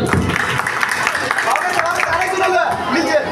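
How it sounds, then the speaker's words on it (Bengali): A live audience at a Jagannath religious quiz event bursts into sustained clapping that fills the hall, with crowd chatter and voices mixed throughout. "প্রভুর জন্য জোরে একটা করতালি।"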